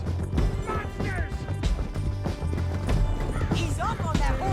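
Hooves clatter from a galloping horse in Red Dead Redemption 2, loud and continuous beneath a dense game mix of music, shouting and effects.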